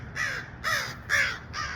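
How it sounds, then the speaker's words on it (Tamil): A crow caws four times in an even rhythm, harsh and fairly close, with low background rumble between the calls. "காக்கா வேறு டிஸ்டர்ப் பண்ணிட்டு இருக்கு."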